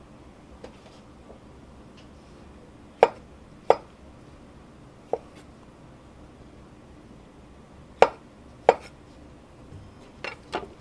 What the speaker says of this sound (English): We're going to cut our olives into wheels about that size.